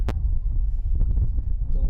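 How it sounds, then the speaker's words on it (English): Gusty wind buffeting the microphone at a women's football match, a loud low rumble with fluctuating bursts and a sharp thump at the start. "It's windy again."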